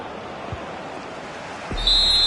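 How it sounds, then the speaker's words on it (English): The referee blows the final whistle in the football video game EA FC 25, played in Clubs mode on PS5. A single sharp, high, sustained whistle blast cuts in near the end over steady stadium crowd ambience. "And there goes the final whistle, much to the disappointment of their supporters."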